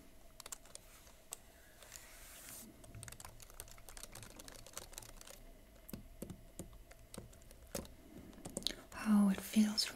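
Keys tap on a Huawei MateBook X Pro laptop keyboard in quick, uneven clicks, soft and close in a quiet room, with hushed whispered speech and a louder rustle toward the end.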